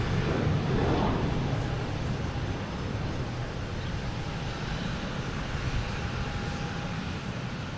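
A Southwest airliner passing at Boston Logan Airport, heard as a steady, broad jet engine roar that stays fairly even throughout, with no talking.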